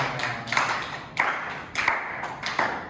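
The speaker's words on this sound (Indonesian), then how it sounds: "Tepuk tangan buat Linda." A few people clap in a classroom for a student during an accounting lesson, giving short, sparse bursts in a loose rhythm of about five clusters, close and moderately loud, with no talking.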